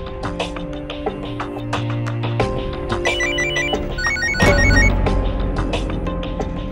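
Telephone ringing in a Hindi crime drama scene, a steady repeating electronic ring mixed with background music at moderate loudness, with no talking.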